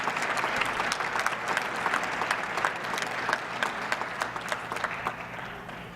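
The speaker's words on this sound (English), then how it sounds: "Paul Veit, Kathy Warren, and a round of applause for our 30-year recipients." A crowd at an employee retirement and recognition program claps loudly and continuously, with some sharper individual claps standing out through the steady applause.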